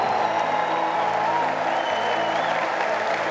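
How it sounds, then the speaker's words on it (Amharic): A church congregation at a prayer service ululates and claps together in a steady, dense roar of applause with high trilling voices woven through, unbroken for the whole stretch. "ያመነ ሰው እልልታ ጭብጨባ ለጌታ።"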